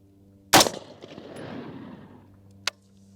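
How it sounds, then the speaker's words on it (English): An AR rifle being zeroed fires one loud, close shot whose report rings and decays over about two seconds, then a second, fainter sharp crack follows, over a steady low hum. "we're gonna shoot 2 more rounds"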